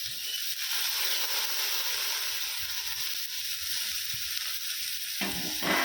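Cauliflower, carrot, beans and cabbage for veg momo sizzle steadily in a hot pan, a continuous frying hiss with brief stirring scrapes, louder near the end.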